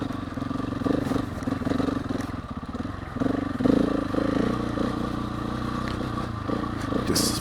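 A KTM 701 motorcycle being ridden, its engine droning steadily with clattering and scraping mixed in, fairly close and continuous throughout.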